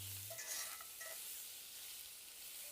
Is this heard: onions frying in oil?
yes